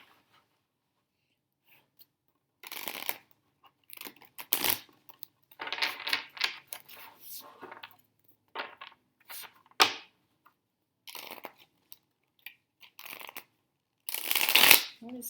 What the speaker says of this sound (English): Shuffling has not been easy today for some reason.